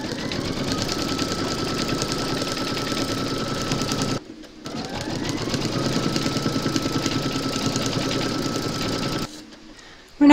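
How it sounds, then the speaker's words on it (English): An embroidery machine stitches fabric held in its hoop, a loud, continuous rapid mechanical whir that stops briefly around the middle, then resumes before cutting off. "You're now going to pop your hoop into your machine and stitch round number three"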